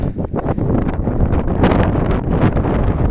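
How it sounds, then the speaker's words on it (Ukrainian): Strong gusty wind in Canada buffets the microphone on a road, roaring loudly and continuously for a few seconds. "Дуже сильний вітер"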